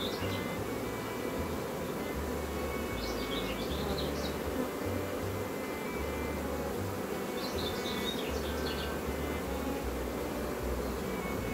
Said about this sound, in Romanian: aici sunt albinele rămase din roiul respectiv, un roi natural